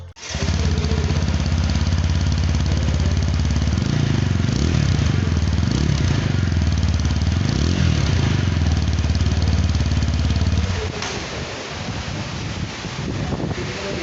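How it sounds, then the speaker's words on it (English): A TVS Apache RTR 160 4V motorcycle engine idles steadily with a deep, bassy dual-barrel exhaust rumble, close and loud, with wind noise over the microphone; the engine note shifts near the end. "the exhaust note is quite bassy"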